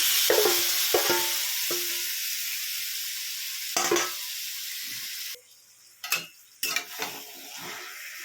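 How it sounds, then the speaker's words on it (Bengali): Marinated chicken hits a pan of fried onions with a loud sizzle, followed by clattering stirs and scrapes of a spoon against the pan, the frying hiss dropping low between bursts of stirring. "এবার আমি ম্যারিনেট করা চিকেন দিয়ে দিচ্ছি।"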